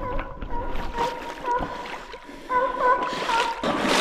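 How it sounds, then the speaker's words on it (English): Boots wade through a shallow creek during a night coon hunt, with water splashing and sloshing in bursts, close and fairly loud; a brief faint voice is also present. "I ain't got the proper footwear to cross this creek, but y'all gonna get the shot."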